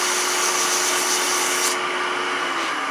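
An aluminum pen blank spins on a wood lathe while sandpaper is held against it, producing a loud, steady, close-up hiss and hum that thins out partway through.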